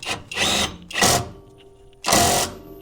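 A power tool runs a small 10 millimeter bolt on a Ford Excursion Super Duty twin I-beam front suspension in three short, close whirring bursts separated by brief pauses.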